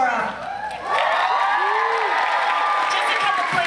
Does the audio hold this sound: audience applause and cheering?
yes